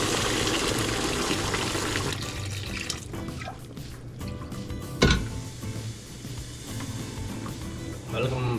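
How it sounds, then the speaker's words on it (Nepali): Water pours steadily into a pot of dal during cooking, a continuous splashing rush heard under a speaking voice, with a sharp clank partway through. "हल्का पानी एड गर्छु"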